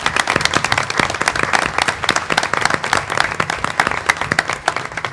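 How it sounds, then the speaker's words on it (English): An audience at a school board of education meeting applauds students with brisk, dense clapping that stays steady and close for several seconds, and no one speaks over it. "Let's give these kids a round of applause."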